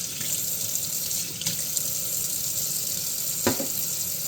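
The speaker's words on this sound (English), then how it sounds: "rinse it off, and then I'm going to dry it off." Kitchen tap water runs steadily into a sink while items are rinsed, a close, continuous splashing hiss with a couple of brief clunks and splashes as things are moved under the stream.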